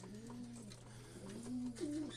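Racing pigeons, a mix of young and old birds, give soft low cooing calls close by, with a few rising coos repeating over a steady background hum.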